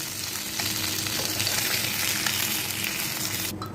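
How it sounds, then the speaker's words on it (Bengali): Onions dropped into hot oil left over from frying rohu fish sizzle with a dense, steady crackling hiss, close and continuous, with a brief sharper rattle just before it ends. "ওই তেলের মধ্যে পেঁয়াজ দিয়ে দিচ্ছি"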